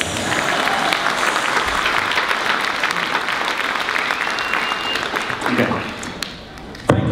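Audience applause at a magic festival opening gala, a dense sustained burst of clapping that fills the clip, with crowd voices mixed in, thinning slightly near the end before a final sharp thump.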